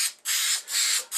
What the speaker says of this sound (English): when you're doing jigsaw puzzles, you want to directly spray it on the wood itself